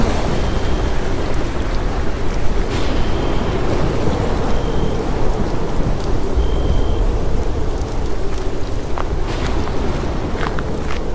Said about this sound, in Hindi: देर रात मौसम खराब हो जाता है और बहुत तेज बादल गरजते हैं।